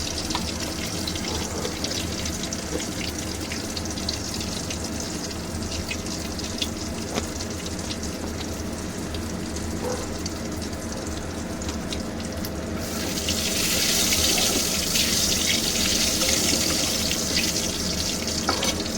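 Cumin seeds tempering in hot oil in a home kitchen for a Bengali prawn and taro stolon dish give a steady, soft sizzle that swells louder and brighter in the last few seconds, with no talking.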